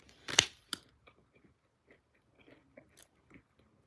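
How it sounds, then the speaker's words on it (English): A person chewing and biting food close up, with a loud crunch near the start followed by scattered soft smacking and mouth noises, no talking. "I'm sorry if y'all hear me chewing, baby."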